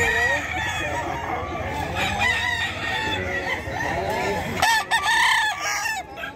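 Roosters at a busy chicken market in Bocaue crow loudly and close, long overlapping calls with clucking, a fresh crow breaking in near the end over crowd murmur.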